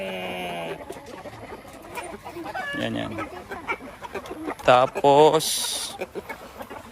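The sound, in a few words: Shamo Aseel rooster clucking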